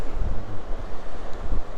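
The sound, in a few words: strong wind at Ruby Beach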